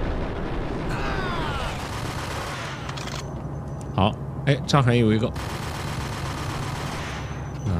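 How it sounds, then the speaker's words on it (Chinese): Rapid bursts of submachine gun fire from the shooter game Max Payne crackle like firecrackers under a voice talking throughout. A sharp run of shots lands midway, then a brief lull. "冲锋枪打在他身上就像放鞭炮一样啊"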